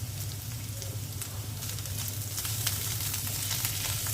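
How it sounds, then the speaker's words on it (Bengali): Chicken is frying in a pan with onion and garlic, a loud, steady sizzle with a layer of crackling and spitting that never lets up. "পেঁয়াজ আর রসুনটা হালকা ভেজে নিলাম। এখন চিকেনটা দিয়ে দিচ্ছি।"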